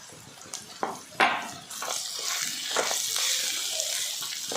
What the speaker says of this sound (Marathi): व आता ह्यामध्ये 2 ग्लास जे मी तांदूळ घेतलेले आहेत ते घालणार आहे.